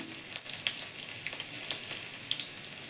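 Shahjira and chopped green chilli tempering in hot oil for doi katla, a steady bright sizzle with small crackling pops throughout, close and moderately loud, no voices.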